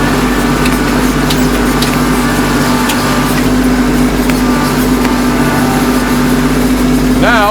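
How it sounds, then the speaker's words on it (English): A tractor engine idles with a steady low drone while a box blade rattles faintly and continuously over it, close and constant throughout. "I hear the box blade rattling."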